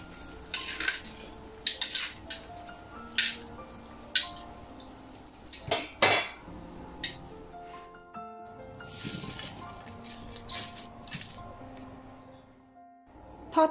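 Crispy fried chilies are scooped out of oil in a pan, with scattered metallic clinks and scrapes of a utensil against the pan, close by, with quieter stretches between.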